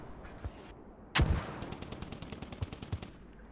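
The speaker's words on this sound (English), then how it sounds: "Mortars right now." Mortar fire in a competitive shooter match: one loud, sharp blast stands out after a quieter stretch, followed by a rapid train of fainter distant pops and thuds, with no talking.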